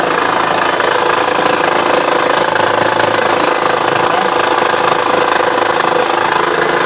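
Abnormal engine noise from a 2010 Honda Pilot 3.5 engine heard with the microphone close to the motor, a loud steady running drone with a rough knocking, rattling texture.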